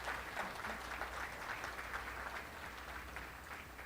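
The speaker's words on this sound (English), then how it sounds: "Can I hear some applause, please, so we can start with the energy?" An audience at the Korea-LAC Trade & Innovation Forum applauds in a soft, distant, even wash of clapping that holds steady throughout.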